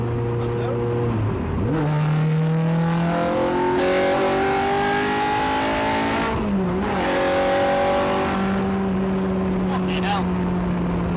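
A Lotus Exige S1 fitted with a Honda K20 engine drives past and pulls through the gears, engine note climbing steadily with two clear shifts and revs rising again, loud and close.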